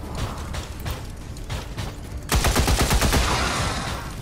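Gunfire in the turn-based video game XCOM 2, a steady stream of rapid mechanical clatter that swells into a louder, denser burst of automatic shots partway through, with no talking.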